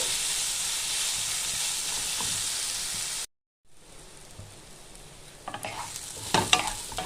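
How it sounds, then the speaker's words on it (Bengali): Steady hot-oil sizzle, briefly cut off, then resuming with scraping stirs and crackling pops of soybean chunks frying. "একটু লাল লাল করে আমি ভেজে নেব এটা।"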